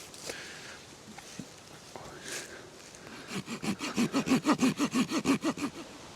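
A saw cuts through a wooden stick to make fire fuel outdoors, starting with faint handling noises, then a run of about a dozen rhythmic back-and-forth rasping strokes that grow louder and close.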